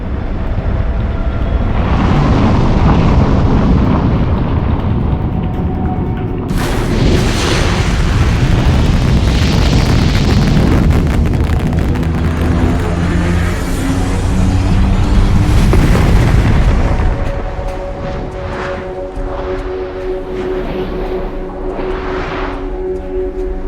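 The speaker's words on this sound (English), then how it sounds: "In early 2007, an anti-satellite missile test took place in Leo. Its target, a dead weather satellite." Anti-satellite missile striking a dead weather satellite in low Earth orbit, rendered as a loud, sustained booming explosion with rumbling low end that swells, holds, then drops abruptly to a quieter roar; no voices.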